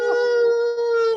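A person at an event where some guests wear wolf shirts gives a long, loud, steady howl close to the microphone, imitating a wolf.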